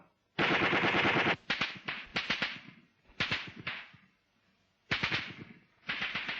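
A machine gun fed by an ammunition loader fires during a platoon attack, with several loud close bursts of rapid shots separated by short pauses.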